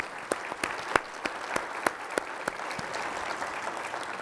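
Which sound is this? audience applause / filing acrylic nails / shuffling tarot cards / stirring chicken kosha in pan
audience applause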